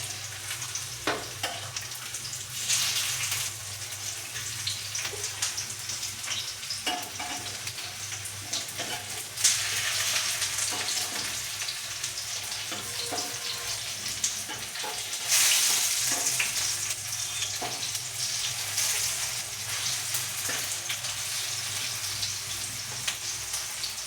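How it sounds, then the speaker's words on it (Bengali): Soybean chunks frying in fresh oil on a home stove, a steady soft sizzle with periodic louder spurts of crackling and spattering, close up and without speech. "দিয়ে সয়াবিনটা ভেজে তুলে মশলা কষিয়ে তরকারিটা করবো"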